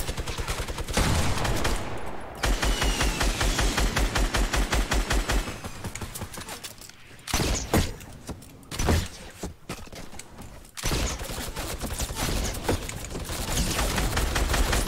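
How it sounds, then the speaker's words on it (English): Rapid, loud minigun fire in Fortnite Battle Royale comes in long sustained bursts broken by short pauses and a few separate blasts, with no one talking over it. "Why does he have a minigun?"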